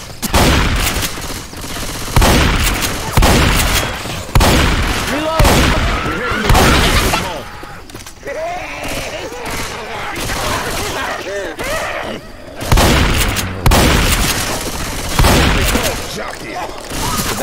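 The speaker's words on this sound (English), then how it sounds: "Deploying explosive rounds." Explosive-round gunfire in Left 4 Dead 2 on the Dead Center map, loud bursts repeating in rough rhythm with short pauses between volleys, chaotic game noise filling the gaps.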